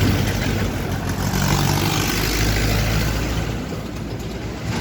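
Engine of a second-hand Apache RTR 4V motorcycle idling nearby, a steady low rumble that holds an even level throughout with no talk.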